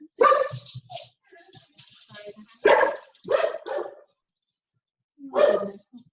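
A dog barking indoors in a few short, separate bursts with pauses between them, fairly close and moderately loud, with no speech over it.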